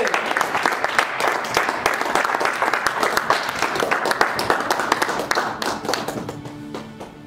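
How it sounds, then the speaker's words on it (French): A church congregation claps and applauds for Jesus during a worship service, with dense, rapid hand claps that stay loud and close for several seconds before thinning out and fading at the end. "Acclame pour Jésus."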